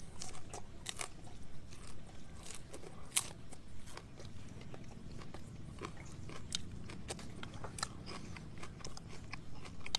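Someone bites and chews crunchy, somewhat tough edible flower stems, a famous Vietnamese flower eaten with shrimp and pork. Close, repeated crisp snaps and crunches come in quick irregular succession, with no talking.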